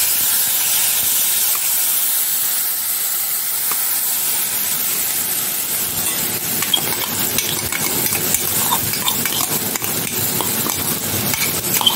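Tomato paste sizzles and hisses steadily in a hot oiled pan with a pinch of asafoetida, for a cauliflower and onion sabzi, with the crackle growing busier and louder partway through and occasional stirring clicks.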